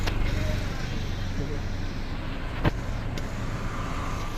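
Steady broadband road traffic rumbles past outside a moving bus, a continuous close wash of engine and tyre noise with one brief sharper swish midway and faint voices blended in.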